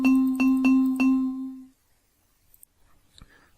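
A xylophone note from a Scratch project, struck four times in an even quick rhythm with bright ringing tones that stop abruptly, followed by faint mouse clicks in near silence.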